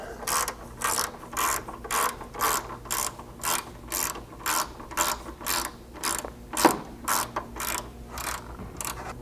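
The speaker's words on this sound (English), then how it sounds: "You're gonna need a 10mm socket to carefully sneak up in here and get that nut removed." A ratchet wrench with a 10mm socket clicks in steady, evenly spaced bursts as it backs off a roof rail nut on a Ford Ranger, loud and close, with one sharper metallic knock partway through.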